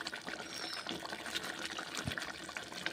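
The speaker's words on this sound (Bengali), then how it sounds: "আর আমি কষে নিচ্ছি চিকেন সামান্য করে জল দিয়ে" A faint trickle of water is poured in small amounts over chicken being fried with spices in a pan, a soft, continuous liquid dribble with light sizzle underneath.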